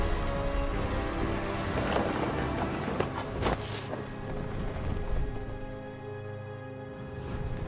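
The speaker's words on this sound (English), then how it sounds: "The thunder sounded much too close and full of angry power." In the game What Remains of Edith Finch, a rainstorm pours steadily while heavy rolling thunder booms and crackles close by, swelling in the middle and then easing toward the end.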